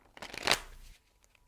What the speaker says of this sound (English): so I'm just going to shuffle a little bit more